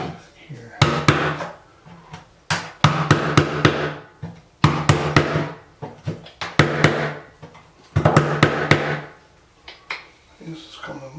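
Sharp hammer blows ring out on an oak floor repair, with the hammerhead working loose. The strikes come in quick bursts of several hits separated by short pauses, loud and close.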